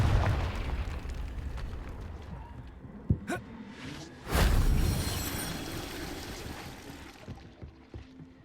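A Confringo blasting spell goes off in a Hogwarts video game: a sharp crack, then a loud, full-bodied explosion that swells suddenly and fades into a rumbling tail, with smaller pops before and after.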